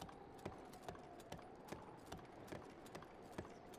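Horse hooves clip-clop at a steady trotting rhythm in The Legend of Zelda: Breath of the Wild, regular thuds about every half second over a dense, noisy game soundscape, faint overall.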